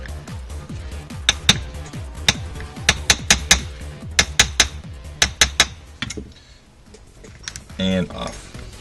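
Sharp metallic taps from a tool knocking out parts while disassembling an Echo1 CSR counter sniper rifle, a dozen or so crisp strikes in quick clusters, close and loud, followed by quieter handling and rattling.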